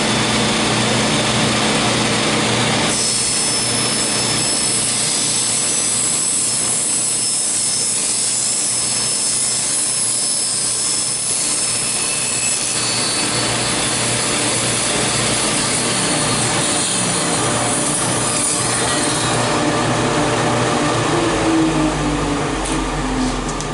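Table saw fitted with an 80-tooth blade rips through plywood, a loud, steady high-pitched whine and grinding roar that runs unbroken for the whole stretch with no voices over it.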